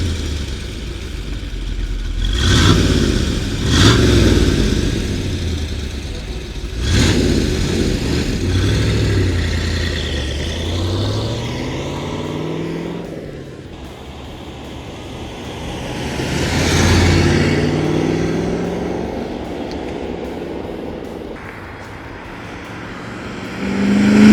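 A 1963 Corvette convertible's exhaust revs and swells as the car makes flybys, engine tone climbing and falling with loud passes near the start and middle, quieter stretches between, and another rise at the end.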